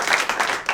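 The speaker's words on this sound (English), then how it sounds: "This deserves a round of applause." A brief burst of applause, a crowd clapping in quick, dense bursts for under a second.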